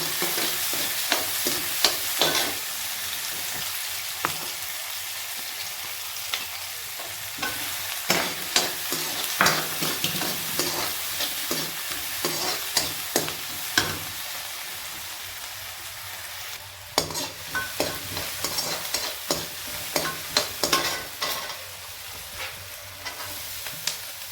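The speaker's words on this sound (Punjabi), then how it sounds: "ਤੇਲ ਚੰਗੀ ਤਰ੍ਹਾਂ ਗਰਮ ਕਰਨ ਤੋਂ ਬਾਅਦ ਅਸੀਂ ਇਹਦੇ ਵਿੱਚ ਪਿਆਜ਼ ਪਾ ਦਾਂਗੇ" Onions frying in hot oil for gajrela, a steady crackling sizzle with intermittent stirring scrapes and clatters of the spoon in the pan, close and continuous with no talk.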